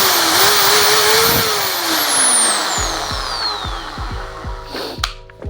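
A Bosch GSB501 power drill runs with a high electric motor whine that shifts pitch as it changes speed, then slows into a series of rhythmic clicking pulses near the end, close and loud.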